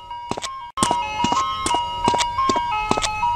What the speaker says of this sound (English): Is that the ice cream truck?